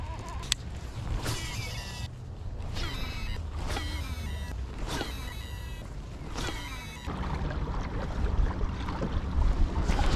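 Strong gusty wind buffets the microphone on Lake Perris in whitecap conditions, a steady broadband roar with intermittent bursts of rushing gusts and water noise from a boat throughout.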